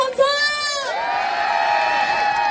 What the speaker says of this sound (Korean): 즐거우시면 박수와 함성!